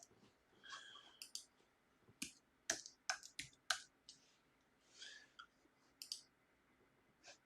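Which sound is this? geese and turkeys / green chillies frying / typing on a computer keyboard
typing on a computer keyboard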